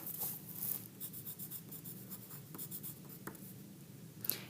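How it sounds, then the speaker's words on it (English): A pencil or pen writes a name on a sheet of paper, giving soft, close scratching strokes in short bursts with small pauses, quiet and without talking. "I'm going to go ahead and put my name on my paper"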